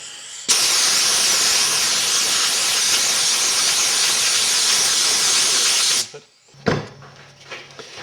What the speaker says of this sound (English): So, air hose.